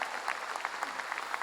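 A revival congregation gathered in church claps in a quick, uneven patter, fairly soft and steady, with individual hand claps poking out over a low hum and no clear speech.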